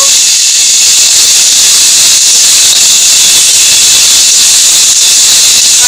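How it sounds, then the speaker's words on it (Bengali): Garlic paste sizzles in hot white oil, producing a very loud, constant, dense hiss throughout with no pauses and no voices. "এটা আরেকটু সাদা তেল দেব, এবার একটু পেস্ট করা রসুন দিয়ে দেব"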